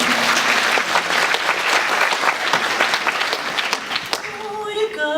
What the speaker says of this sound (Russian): Поддержим аплодисментами.